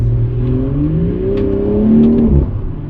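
A catless BMW M140i revs hard close up, its engine note climbing and falling in sustained loud sweeps for a few seconds, with no talk over it.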